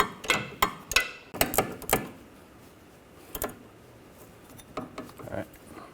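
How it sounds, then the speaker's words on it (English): A ratchet with a 16mm socket tightens a rear sway bar link bolt on a 2004-2009 Audi A4 Quattro, giving quick close clicking bursts in short runs with pauses between them. "We can use a ratchet and a socket."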